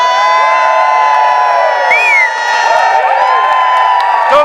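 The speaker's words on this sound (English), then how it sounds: "there's a round of applause here tonight" A live crowd at Colorado College cheers and whoops with applause, a dense, steady roar of many voices with bright shouts rising above it, continuing unbroken from start to finish.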